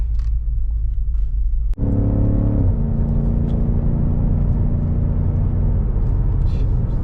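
A car driving on the road, a steady loud engine rumble and road drone from inside the cabin, with a sharp thump near the start and a brief shift in engine tone before the hum settles, no talk.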